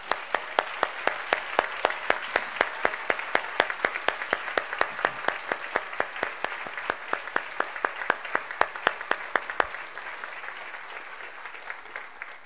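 Audience applause at a school graduation ceremony, a steady crowd of clapping with distinct close claps standing out, sustained for several seconds and gradually thinning toward the end.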